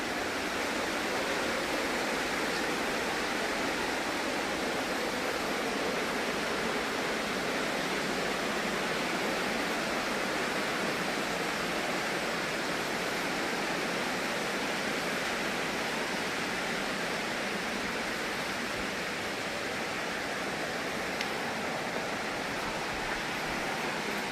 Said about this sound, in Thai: ระหว่างทางที่เฮาย่างนี่ก็จะได้ยินเสียงน้ำตก